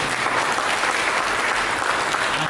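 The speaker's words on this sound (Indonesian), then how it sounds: "Mari kita berikan tepuk tangan buat Tuhan." Dense, steady applause from a church congregation fills the space, a continuous wash of many hands clapping at close range without pause.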